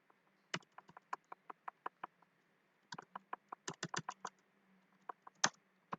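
Java code is typed on a computer keyboard in quick bursts of crisp, close keystrokes with a short pause midway, and nobody speaks.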